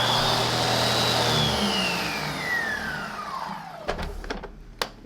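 A Lindhaus (Stealth) central vacuum power brush runs with a loud, steady whine that bends downward as it sucks up an object, then drops off into a few sharp clacks and knocks near the end.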